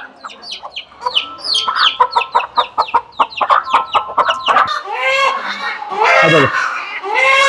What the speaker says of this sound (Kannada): ಗೊತ್ತಾಯ್ತಾ ಏನು ಒರಿಜಿನಲ್ ನಾಟಿ ಕೋಳಿ ಸೌಂಡ್ ಅಂತ?